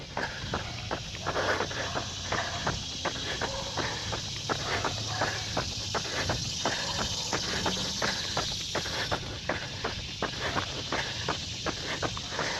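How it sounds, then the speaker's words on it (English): A dense, steady buzzing drone of cicadas fills the air, with a runner's rhythmic footsteps thudding along underneath. "Man, you can hear those cicadas."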